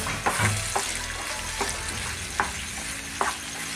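Chopped green chilli, crushed ginger and garlic frying in a pan for a prawn roast, a steady close sizzle with a few light stirring clacks spaced through it.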